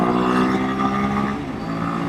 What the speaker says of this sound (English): What a hot rod motorcycle